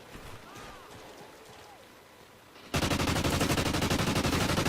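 Loud, rapid automatic fire from an MTAR assault rifle in Call of Duty Ghosts bursts in abruptly and runs steadily to the end, following a quieter stretch of ambient game noise.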